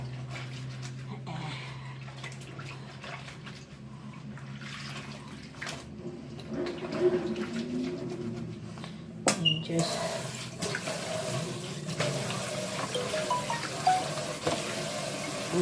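Tap water runs into a small rinse sink while t-shirts and lounge clothes are hand-washed, a steady splashing stream with occasional sloshes and a sharp clunk partway through; someone talks over it.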